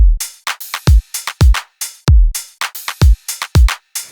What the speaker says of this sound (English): you can go from a drum pattern that sounds like this